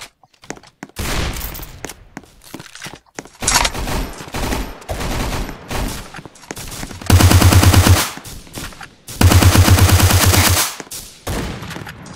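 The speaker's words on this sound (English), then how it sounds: "I legit get a Tommy gun." Fortnite Tommy gun bursts rip out in several rapid strings, two long sustained loud volleys near the end, with scattered shorter shots and gaps between, close and alone.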